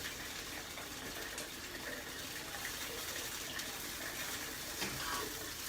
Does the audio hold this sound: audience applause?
no